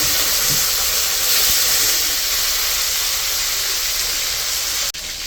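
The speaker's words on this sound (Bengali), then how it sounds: "মাছগুলো কড়াইতে দিয়ে দিল।" Shol fish dropped into hot oil in a wok sets off a loud, continuous sizzling hiss that holds steady for several seconds before a sudden brief break near the end.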